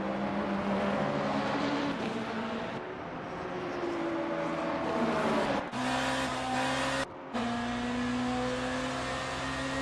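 BMW and Cadillac race cars dueling in Le Mans Ultimate at Bahrain: steady, loud engine drones rise and fall through gear changes, with brief dropouts and a second car's tone overlapping near the end.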